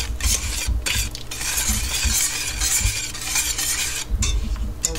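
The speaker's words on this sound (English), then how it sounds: "You keep stirring the pot until it is all melted." Buttermilk and sugar being stirred in a pot as they melt, a steady scraping stir with a soft sizzle and light utensil clinks, continuous and close with no talking.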